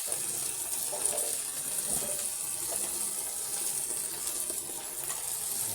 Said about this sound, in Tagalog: Kunting tubig lang naman.